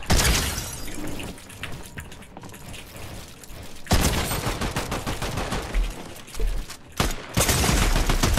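Rapid AR rifle gunfire in a video game, loud sustained volleys with short gaps between them and a few separate single bursts toward the end.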